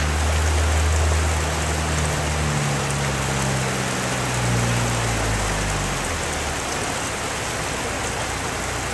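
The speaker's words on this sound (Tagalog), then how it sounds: "Hindi kami makaakyat kasi lakas ng ulan." Heavy rain pours steadily on a steep, slippery mountain road in Bokod, Benguet, a dense, loud hiss filling the whole stretch, with a low engine-like rumble underneath early on.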